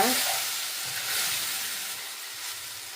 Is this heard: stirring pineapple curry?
yes